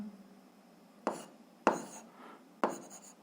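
Marker or pen strokes writing a physics equation on a board, three distinct scratchy strokes at about one-second intervals, close and fairly clear over a quiet background.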